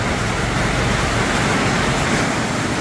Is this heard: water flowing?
yes